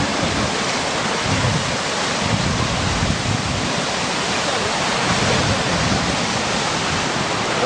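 River ice breaks up and drifts downstream in a steady, loud rushing roar of grinding, churning ice and water that fills the scene without pause.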